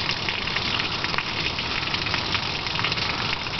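Heavy rain pours down steadily in Los Angeles, a dense, continuous hiss of drops close by with scattered sharper patters, loud and unbroken throughout.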